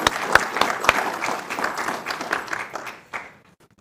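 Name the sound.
crowd applause at an investiture ceremony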